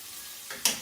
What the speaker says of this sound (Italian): i nostri asparagi stanno andando, la sua bella caramellina, facciamo friggere bene